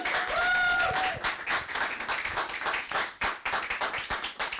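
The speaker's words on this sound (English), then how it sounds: "one final round of applause for Quizzards!" Audience at an online coding bootcamp graduation showcase clapping in a steady round of applause lasting several seconds, close and fairly full, with brief tonal beeps near the start and some faint voices.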